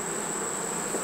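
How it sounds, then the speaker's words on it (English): Honey bees in a hive that is being smoked make a dense, steady buzz. It is close and continuous through a brief moment, with no voices. "Just smoke those bees and get them to run on out of there."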